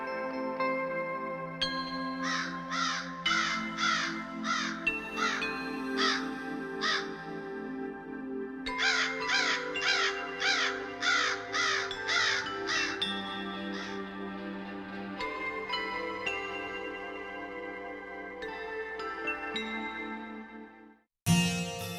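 A crow caws overhead in two clear bursts of rapid, harsh calls, loud and near, followed by scattered single caws and then quiet.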